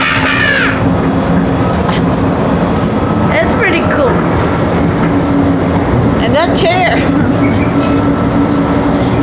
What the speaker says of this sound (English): There's nobody driving this train at all.